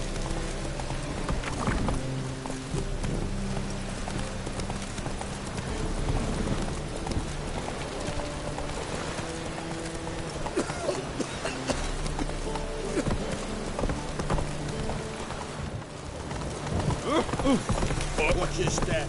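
Roach's hooves drum in a continuous gallop through The Witcher 3, a steady near clip-clop running under a rainy, hissing ambience for the whole stretch, with occasional voice in the background.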